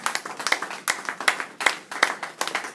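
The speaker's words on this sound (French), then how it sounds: "Acclamons très fort le Seigneur." A church congregation claps together in a brisk, steady rhythm, many hands beating close and in time with a few uneven accents.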